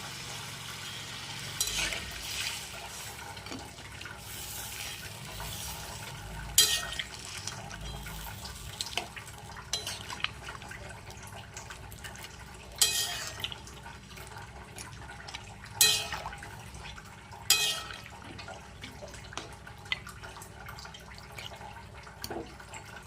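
Water poured into a cooking pot of rice on the stove, a soft continuous liquid wash with occasional clinks and stirring sounds, fairly quiet and close.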